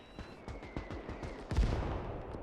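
Hip-fired MG42 machine gun fire in a gritty late-war trench battle in Gates of Hell, with rapid repeated shots as the burst runs, then a heavier boom near the end amid battle noise.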